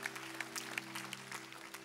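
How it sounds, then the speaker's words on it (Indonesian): Church congregation applauding, a soft, distant patter of clapping over a steady low electrical hum, with a few sharper claps standing out. "Tepuk tangan sekali lagi buat Tuhan kita."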